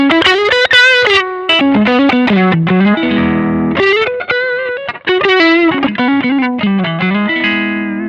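An electric guitar runs through a Tube Screamer overdrive effect on a Zoom MS-50G multistomp pedal, playing a loud, sustained, gritty riff of held notes and chords that steps through changing pitches with no talking.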